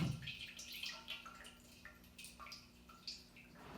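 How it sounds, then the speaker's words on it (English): Water poured over tiers of sprouting beans, splashing and dripping steadily at close range while the container is moved around, with a quieter trickle toward the end. "Pour, and I like to move it around a bit so it doesn't get stagnant."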